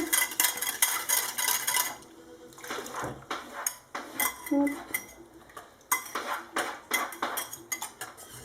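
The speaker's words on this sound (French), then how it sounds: "Je vais vraiment bien mélanger." A metal spoon clinks and scrapes against a bowl while homemade yogurt and milk are mixed, with quick bursts of rapid stirring broken by short pauses, close by and fairly quiet, with no voices.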